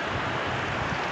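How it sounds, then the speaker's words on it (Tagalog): Big sea waves slosh and rush around a small fishing boat, a steady, loud wash of water and wind close to the microphone, with no voices. "Lalaki ng alon."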